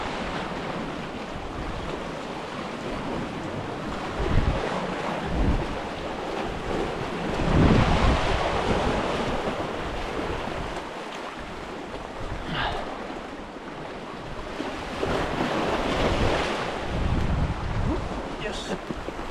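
Ocean water laps around an island under steady wind rumble on the microphone, with surf washing in continuous, moderately loud waves.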